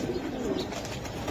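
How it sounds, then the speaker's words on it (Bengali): A silver Giribaz pigeon gives a brief, soft coo, faint and close, with no one speaking over it. "এটা রাব্বানি লাইনের, হ্যাঁ লাল গিয়ারের রাব্বানি লাইনের সিলভার কবুতর"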